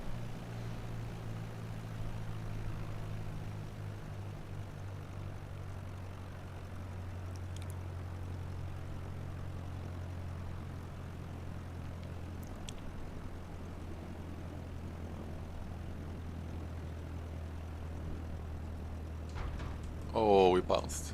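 Single-engine Cessna 208B turboprop in the MSFS 2020 flight simulator, landing in strong wind with full flaps: a steady, low propeller-engine drone running throughout, with a voice breaking in briefly near the end.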